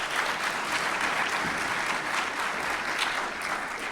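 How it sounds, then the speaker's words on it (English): An audience at a broadband policy panel gives a steady round of applause, many hands clapping in a dense, even wash that holds at a constant level with no voices over it. "We'll give them a mini round of applause here real quick"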